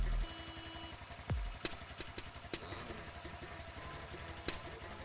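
A motorcycle engine from a Fortnite item-shop cosmetic idles with a steady low chugging rumble, broken by a few sharp clicks and thuds and one brief rising whoosh.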